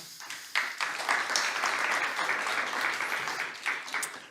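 A small audience at a talk on analytics for an education product gives a moderate round of applause, steady and fairly close, tapering off after about four seconds.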